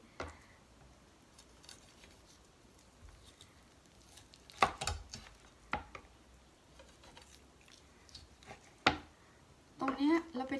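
A knife cuts and scrapes meat off a chicken on a board, with scattered soft taps and sharper clicks, quiet and close, spread over several seconds.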